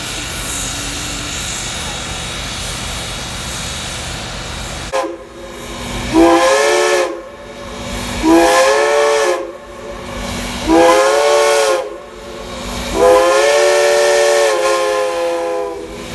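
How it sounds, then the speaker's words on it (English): Steam whistle of locomotive 425 sounding its five-minute boarding warning at Reading Outer Station during a layover, with four long, loud blasts over steady steam hiss, the first blast starting about five seconds in. "that was 425's 5-minute warning whistle for the 3:30 train"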